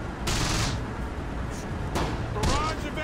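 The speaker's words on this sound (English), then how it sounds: "Got some gunfire already." Close Combat The Bloody First battle gunfire near Normandy bocage: a few sharp bursts of shots across three seconds, moderately loud, over constant low battlefield noise.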